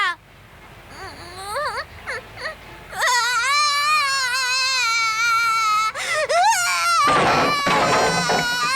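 A cartoon child named Shinzo cries loudly, starting with short whimpering sobs and building into a sustained, piercing wail with wavering pitch, close and dominant, ending in a noisy burst.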